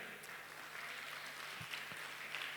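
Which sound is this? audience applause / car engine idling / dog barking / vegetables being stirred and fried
audience applause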